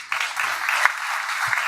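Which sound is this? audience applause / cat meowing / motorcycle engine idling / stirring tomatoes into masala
audience applause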